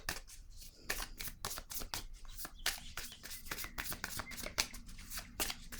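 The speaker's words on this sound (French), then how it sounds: "Je vais déposer une carte sur la zone de peur." Cards shuffled and laid down during a tarot-style reading, a quiet rapid run of crisp riffling flicks and soft taps, close and steady with no talking.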